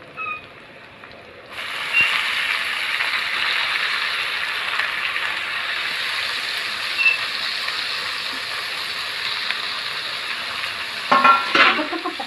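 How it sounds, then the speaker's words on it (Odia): Leafy greens (saag) dropped into a hot pan with garlic for chunapaka saag, hitting the oil with a sudden loud, steady sizzle that continues throughout, with a few utensil clinks and stirring scrapes near the end. "ଶାଗଟାକୁ ପକାଇକିରି ଆମେ ଭାଜିବା ଟିକେ ନାକୁ"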